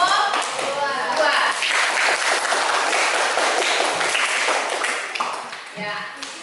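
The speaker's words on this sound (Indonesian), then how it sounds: "Tepuk tangan untuk kelompok 2." A classroom of students applauding a presenting group, a dense, sustained burst of many hands clapping close by, with voices mixed in and the clapping thinning toward the end.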